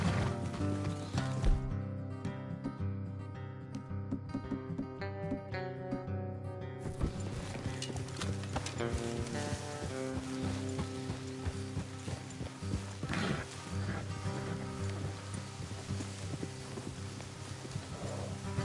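Horse hooves clip-clopping at a steady walk in Red Dead Redemption 2, a rhythmic patter running through the whole stretch beneath a full, dense layer of game music and ambience.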